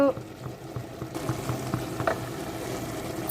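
Basmati rice pulao with ginger paste bubbles in a pot, a soft and steady simmering hiss with small irregular pops, fairly faint and close by.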